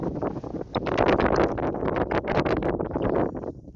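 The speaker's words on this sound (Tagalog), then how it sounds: "Lakas ng hangin mga kaidol." Strong gusts of wind buffet the microphone in a loud, rough, continuous roar that rises and falls.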